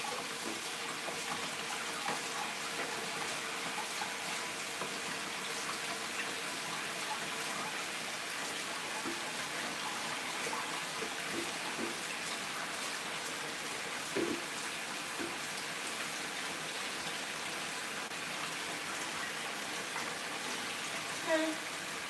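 Tap water runs steadily and faintly into a bowl as rice is washed for goat meat jollof, a soft continuous splash with a few small clinks.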